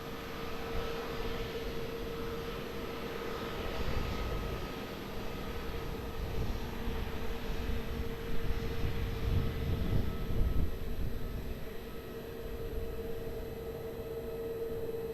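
A plane takes off at Lisbon Airport, heard as a distant, steady jet roar and hum that swells slightly midway, with no talking.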